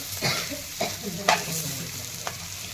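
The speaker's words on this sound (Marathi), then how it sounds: "तेलामध्ये लसूण खोबरं कोथंबीर अद्रक परतून घेतलेलं आहे" Garlic, coconut, coriander and ginger sautéing in oil for a spicy brinjal dish, a steady close sizzle broken by a few sharp stirring scrapes.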